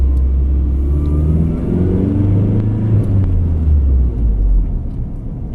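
A Toyota Tacoma with a 2.7 engine and a loud aftermarket exhaust revs to about 2,000 RPM, heard close as a deep, throbbing rumble that rises and holds before easing off.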